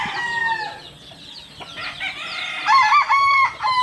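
A three-year-old white rooster crows loudly nearby, a long rising-and-falling call followed by a second, stronger crow, with no talking.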